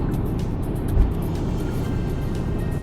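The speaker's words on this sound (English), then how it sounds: "once the X50 travels above 100 km per hour, the wing mirror would start to generate substantial wind noise" Broad, steady rushing wind noise from the wing mirror of a 2021 Proton X50 cruising above 100 km/h, heard from inside the cabin as a constant roar mixed with low road rumble.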